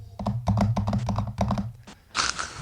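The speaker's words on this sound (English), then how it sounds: "This is me clicking my computer keyboards." Fingers type quickly on a computer keyboard close to a desk microphone, making crisp clicking keystrokes in short rapid bursts. A softer rustling scrape follows at the end.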